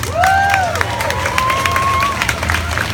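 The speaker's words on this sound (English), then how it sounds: "so a big round of applause for that." A crowd at a trans pride event claps and cheers, with a few whoops rising over the dense applause and chatter mixed in throughout.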